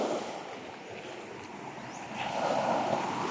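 Strong sea waves break and wash in, mixed with wind noise, and the surf swells louder toward the end.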